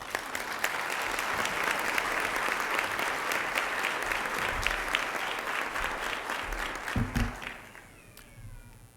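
Sustained audience applause welcoming a speaker at a city Women's History Month celebration in Tampa, a dense, steady clapping from a sizable crowd that holds for most of the stretch before tapering off near the end.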